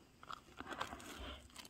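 Close, quiet crunching and biting on a crisp late-night snack, a few crackly bites followed by soft chewing.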